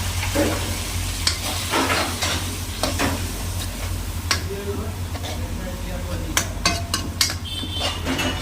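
A splash of water goes into a hot pan of fish with cumin and salt for a Bengali katla dish, bringing a sizzle amid repeated sharp clinks and scrapes of a utensil against the pan, with a voice heard at times.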